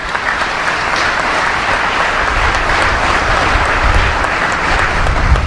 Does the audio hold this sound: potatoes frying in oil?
no